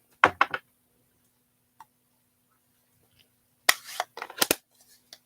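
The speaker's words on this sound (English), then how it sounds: "I might just get another deckled circle and cut that out." Scissors snip around the edge of a deckled paper circle during Halloween card making, with a quick cluster of cuts at the start and another run of sharp snips after a quiet pause.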